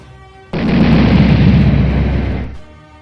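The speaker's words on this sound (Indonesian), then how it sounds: "Dan misil itu pun berhasil meledakkan salah satu mobil musuh." One heavy roaring blast lasts about two seconds, a loud rumbling missile explosion hitting an enemy car that cuts off abruptly.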